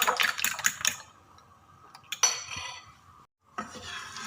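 A fork or whisk beating eggs seasoned with white pepper and salt in a bowl, a fast ticking clatter that stops, then short bursts of clinking resume.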